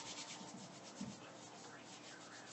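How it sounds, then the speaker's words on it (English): Floured hands rub together to scrape off sticky challah dough, a steady close dry rasping and brushing that continues without pause. "Getting the flour on my hand and then rubbing my hands together is a good way to get the dough off"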